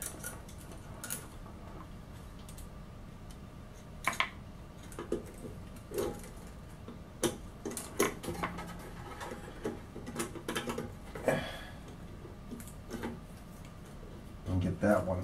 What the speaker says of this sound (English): Take my Allen wrench.